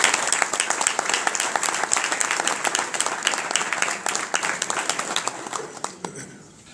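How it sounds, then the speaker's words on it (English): An audience applauds at a Rice University athletics celebration honoring trailblazing athletes, dense steady clapping filling the room for several seconds before thinning out and fading near the end. "So if we could just give them a round of applause."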